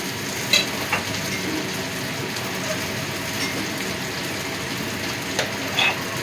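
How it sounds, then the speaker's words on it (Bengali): Chopped onion fries in a pan for a lentil dal with onion and tomato, a continuous close sizzle with a few soft clicks of stirring. "পেঁয়াজ কুচিটা একটু ভেজে নেব"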